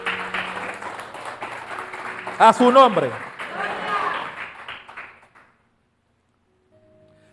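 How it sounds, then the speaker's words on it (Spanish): A church congregation claps for several seconds in a dense, steady patter while a preacher's voice carries over it, then the applause stops abruptly and near silence follows. "Dale un aplauso al que vive."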